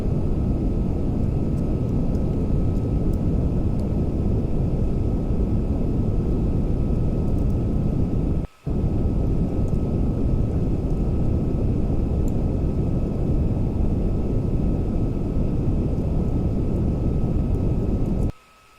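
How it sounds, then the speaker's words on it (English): Steady rocket engine roar from Kerbal Space Program during a throttled landing burn, a continuous loud broadband rumble with a steady hum, briefly cutting out for an instant midway and stopping at the end. "throttle back our engine slightly. And throttle up again slightly."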